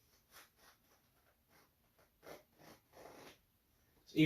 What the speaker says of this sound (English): It's a big old chunky zipper, and I like how heavy duty they are